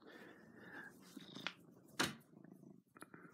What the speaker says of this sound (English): He's just happy, we're purring away.